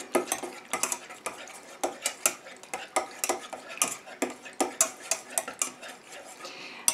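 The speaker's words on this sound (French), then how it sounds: "Et je mélange." A utensil stirs urea into the aqueous phase of a body butter in a small container, giving quick rhythmic clinks and scrapes in a steady ticking pattern, close and fairly quiet.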